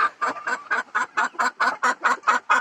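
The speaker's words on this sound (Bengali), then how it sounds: "দেখেন কক করতেছে করতেছে" A domestic desi hen in a small indoor coop clucks in a steady run of about a dozen evenly spaced, loud, close calls, each a short nasal burst, with no talk over them.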